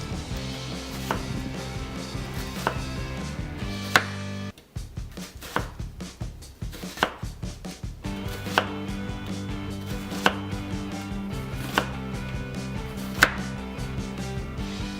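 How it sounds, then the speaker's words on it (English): A knife slices half an onion on a wooden cutting board in a steady run of sharp, close chopping taps, briefly pausing before resuming at an even rhythm. "I'll use half of the onion. Slice it and put this on the side."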